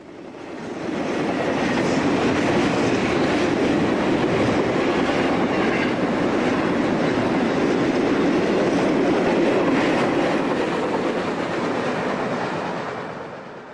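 A Conrail freight train, the TV-263 running from New Jersey to Chicago, passes at Oak Harbor with a loud, sustained rumble and rattle of wheels and cars that swells in, holds steady, then fades at the end.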